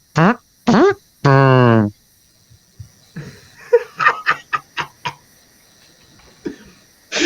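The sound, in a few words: voice imitating a fart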